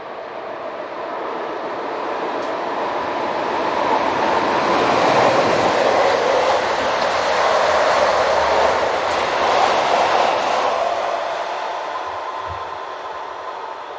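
A DR Class 155 electric locomotive, number 042, heads a short freight train bound for Hamburg, its broad rumbling roar swelling as it passes close by and then easing slightly, with no voices.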